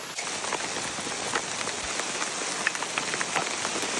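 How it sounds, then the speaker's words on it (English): Steady rain falling outdoors at a roadside camp, a dense continuous hiss of drops hitting surfaces with scattered sharper patters, loud and unbroken with no talk. "It's raining."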